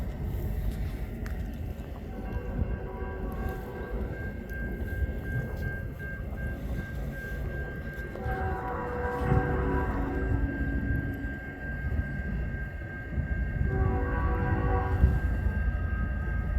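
CN freight train M357, led by locomotive 3847, rolling past at Ladysmith with a steady rumble of wagons and tonal horn-like tones swelling twice, fairly distant and continuous.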